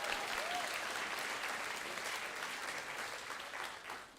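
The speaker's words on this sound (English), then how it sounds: "so we'll give her some applause" Sustained audience applause at a school opening assembly, a dense, even wash of clapping from a large crowd that holds steady for several seconds, heard from within the hall.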